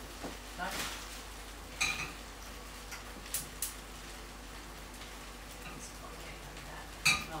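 Spring onions sizzle steadily in a pan, with occasional clicks and scrapes of a utensil stirring, heard up close.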